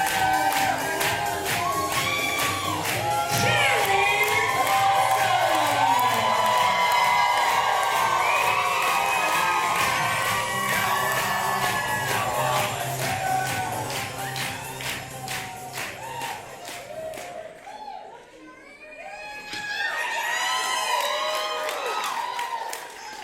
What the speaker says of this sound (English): thunderous response for Cherry